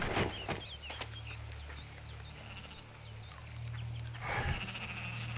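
A mutant sheep in the video game Sacred 2 bleats in a string of short wavering calls over a low droning game soundscape, with a couple of sharp thuds at the start and end.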